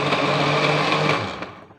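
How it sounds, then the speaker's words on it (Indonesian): Electric blender whirring at close range as it mixes white turmeric herbal drink ingredients, a steady high motor drone that winds down near the end. "Ini aku blender ya guys."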